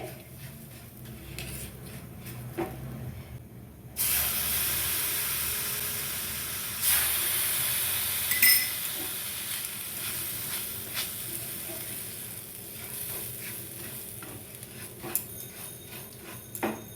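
Sweet pulao (mithi polao) for a Rath Yatra offering hisses and sizzles in a pan as spoonfuls of milk go in and it is stirred. Loud steamy bursts swell and fade in waves.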